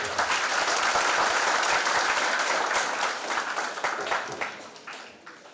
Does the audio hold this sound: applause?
yes